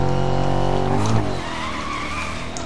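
A Bentley in Need For Speed Most Wanted doing donuts: a loud, steady engine drone with a long tire skid, a brief squealing peak, then the engine easing back while the skid continues.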